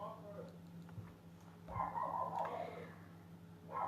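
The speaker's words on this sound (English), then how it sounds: "I'm so sorry about that dog barking." A dog barks from a porch outside, a few sharp barks in a burst at mid-clip and again at the end, set against a steady low hum and faint background noise.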